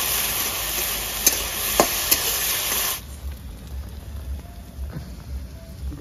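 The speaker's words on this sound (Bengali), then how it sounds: "2 চামচ আদা রসুনের পেস্ট দিয়ে দিচ্ছি।" Ginger garlic paste is added to lightly fried onions in a hot pan. A bright spattering sizzle with a few sharp pops is loud for the first half, then drops to a quieter bubbling.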